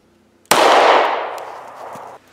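One unsuppressed handgun fires nearby, a sudden loud crack whose ring trails off for nearly two seconds before stopping abruptly.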